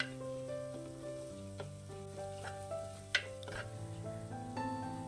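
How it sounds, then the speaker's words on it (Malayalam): Spices with turmeric sautéing on low heat in a hot clay pot for a Kerala drumstick and tomato rasam, a soft steady sizzle with faint stirring scrapes, one sharp clink midway. "ഇനി ഇതൊന്ന് വഴറ്റിയെടുക്കണം"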